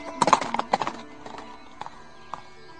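A horse's hooves clip-clop on a hill road in a short uneven run of sharp, fairly close knocks, loudest at first, then a few sparser steps trailing off. No one speaks.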